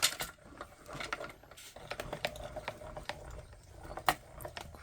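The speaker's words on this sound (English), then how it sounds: "think it's stuck down enough to go through the machine without moving, hopefully." A die cutting machine for card making is cranked by hand, giving faint, irregular mechanical clicks and ratcheting in a quiet room.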